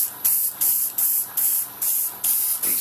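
An airbrush spraying paint onto Deadzone terrain tiles gives loud, close bursts of hissing, about seven short sprays in a quick even rhythm with brief gaps between them.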